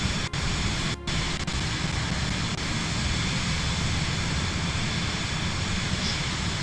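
Steady light aircraft engine drone in a flight simulator, a constant loud broadband hum with no pauses apart from a couple of brief clicks near the start.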